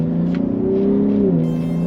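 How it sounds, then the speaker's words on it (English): Steady, low V6 exhaust rumble of a 2022 Ford F-150 Raptor heard from inside the cabin, holding a deep drone that dips slightly in pitch near the end. "That V6 exhaust sounds excellent from the inside."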